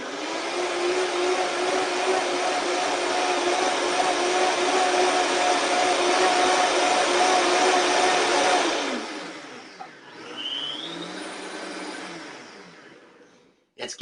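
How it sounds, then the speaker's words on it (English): A Vitamix blender runs loud and steady for about nine seconds, then cuts off, leaving a quieter whir and a kitchen background with people talking. "That's an interesting Vitamix."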